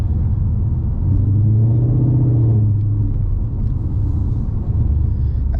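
A 2020 Ford Mustang Bullitt with an H-pipe exhaust gives a deep, steady rumble while driving on the road, rising briefly in pitch as it pulls, heard close and alone.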